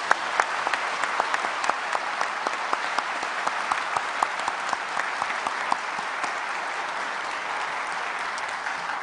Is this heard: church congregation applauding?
yes